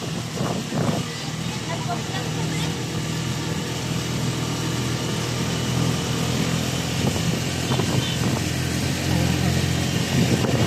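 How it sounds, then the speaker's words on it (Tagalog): A steady engine rumble runs throughout, idling at a constant level with a low, droning tone and some faint clatter and background noise. "Makina yan, ano?"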